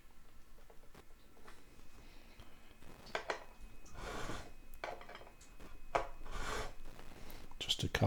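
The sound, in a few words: file swipes on a brand new guitar neck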